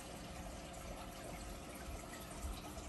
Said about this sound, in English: lot of bubbles, you know.